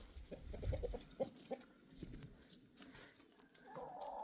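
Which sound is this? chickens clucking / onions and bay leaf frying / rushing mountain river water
chickens clucking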